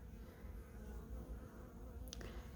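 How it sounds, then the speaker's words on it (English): Winter bees hum faintly as a soft, continuous buzz under low background rumble, with one short sharper sound near the end. "These are winter bees, they're all going to sting quite nicely"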